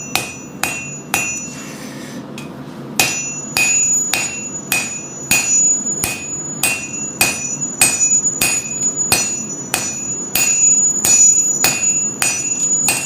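Hammer blows forging bevels and a distal taper into a Japanese short sword blade ring out in a steady rhythm of loud, sharp metallic strikes, about twenty in a row with a short pause early on.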